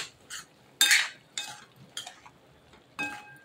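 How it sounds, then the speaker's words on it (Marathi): A spoon stirs a dry black-eyed pea vegetable dish in a pan, giving a few separate scraping clinks at an uneven pace, close and clear against a quiet background. "परत एकदा छान अशी भाजी आपली हलवून घ्यायची"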